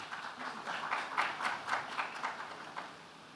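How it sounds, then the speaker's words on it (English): Audience applause welcoming educationist Professor Dinesh Singh, a moderate, steady patter of many hands with a few louder swells, tapering off near the end. "a very, very warm round of applause"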